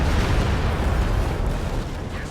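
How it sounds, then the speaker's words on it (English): A Stuka dive bomber strike explodes in a Company of Heroes 2 match, a heavy, sustained rumbling blast that fills the whole moment, loud and close, slowly easing off toward the end. "Here comes a Stuka"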